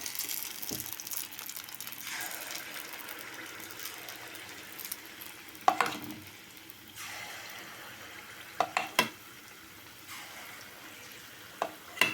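Sweet wheat-flour bonda balls fry in hot oil with a soft, steady bubbling sizzle, broken by a few sharp clinks and scrapes from a utensil.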